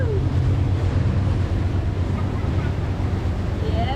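Sailboat running under its motor across a calm turquoise lake in the Abacos on a windless day, a steady low engine drone with wind buffeting the microphone and faint water wash, close and continuous.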